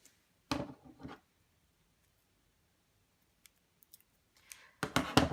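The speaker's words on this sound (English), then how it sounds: "I'm just going to cut like small bits on the tape" Scissors snip small pieces of tape at a fashion design desk, a few quick close cuts in short bursts separated by quiet pauses, with faint clicks in between.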